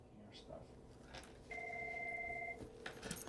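A telephone rings once with a steady electronic tone lasting about a second, heard at moderate distance in a quiet room.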